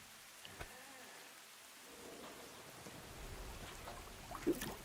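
In-game rain falls steadily in the apocalyptic survival colony builder Endzone 2, a soft continuous patter with faint rumbles and a small sharp tap near the end, heard with no talking.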